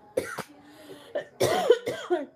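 Several dry, raspy coughs in quick succession, close and fairly loud, with brief pauses between bursts.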